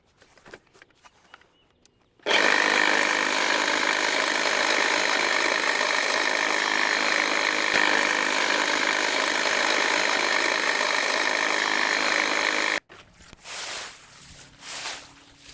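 A Milwaukee M18 FUEL cordless hedge trimmer cuts through a hedge in one loud, steady burst of about ten seconds of buzzing blade chatter, with quieter handling noises before and after.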